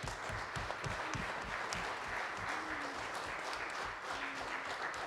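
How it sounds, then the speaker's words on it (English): A church congregation applauds its weekly kitchen volunteers with a sustained, even round of clapping filling the room, a few voices faintly audible beneath. "please stand so we can give you a round of applause for helping each week"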